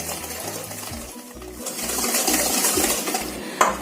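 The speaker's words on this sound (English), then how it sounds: "it's very important that you whisk this properly." A whisk beats eggless lemon cake batter in a bowl with a quick scraping, clinking rhythm against the sides, close and steady over a few seconds.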